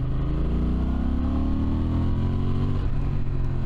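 Honda Transalp 750 motorcycle engine accelerating on a short highway stretch, a loud, steady drone rising in pitch as it pulls, with a brief dip near the end like a gear change, no talking.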